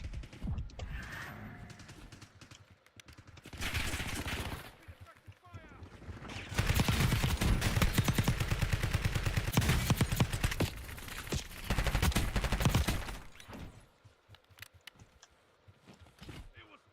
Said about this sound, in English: I'll let those guys shoot at each other for a minute